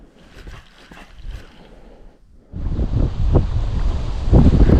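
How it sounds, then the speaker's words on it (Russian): Strong wind and choppy waves on the Moksha river in Mordovia during rain, starting as a quieter rush before a sudden surge of loud, close buffeting gusts and splashing water. "Поднялся сильный ветер, дождь по-прежнему идет, волна,"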